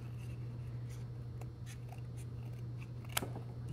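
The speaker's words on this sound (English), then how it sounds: "Now we want to cut off the extra pieces that are hanging off." Scissors snip paper for a spider craft: a series of quiet, irregular cuts and paper rustles over a steady low hum, with one sharper snip near the end.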